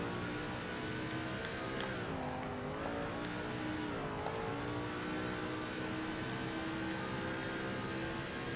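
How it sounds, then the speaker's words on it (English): A stock car engine drones steadily in the NASCAR 2005 video game during National Series qualifying, a continuous revving tone that dips and swells in pitch as the car pulls away. "Light up those tires and off we go for National Series qualifying"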